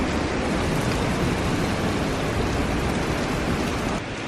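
Steady rain falling outdoors during a car build session, a dense, constant hiss of drops on surfaces, loud and unbroken throughout with no voices.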